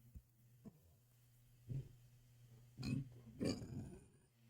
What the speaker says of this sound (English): I swear there's going to come a day I'll stop burping.